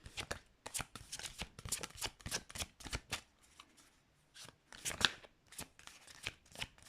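Tarot cards shuffled by hand at close range, giving rapid papery riffles and slaps in uneven bursts with brief pauses, clear and alone.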